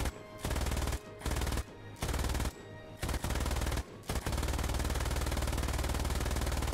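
Rapid bursts of aircraft machine gun fire in the War Thunder video game, several loud rattling volleys broken by short pauses, then one long sustained burst.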